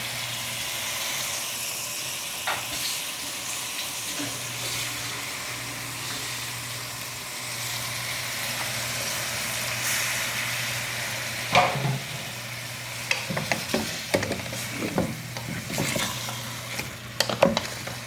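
A kabsa mixture with two Maggi cubes and tomato sauce is stirred in a pan, a steady soft hiss and sizzle broken by sharper scraping clatters that grow busier toward the end.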